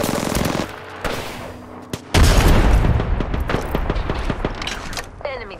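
Frag grenade going off in the Apex Legends video game, a loud boom at about two seconds within a dense fight of rapid gunfire, with voices heard in between.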